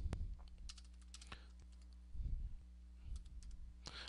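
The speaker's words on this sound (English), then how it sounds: "type in a YouTube video that I'm looking for" Keys clicking in short irregular bursts on a computer keyboard, quiet and close, with brief pauses between runs of typing and no voices.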